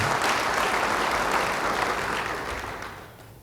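Brief burst of dense congregational applause during a church service, loud and even before fading out over a few seconds.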